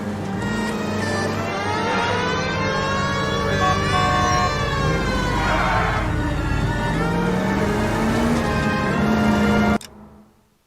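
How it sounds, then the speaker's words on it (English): Police car siren from the video game L.A. Noire, a loud continuous wailing tone that rises and falls steadily for nearly ten seconds before cutting off abruptly. "I feel more comfortable with the siren."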